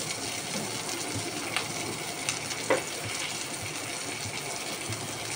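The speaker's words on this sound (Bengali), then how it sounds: "মশলাটা আমি কষিয়ে নিই।" Ground spices, including ginger, cumin and green chilli pastes with a pinch of red chilli powder and chopped tomato, fry in a pan with a constant, hissing sizzle and a few faint stirring clicks, close and even throughout.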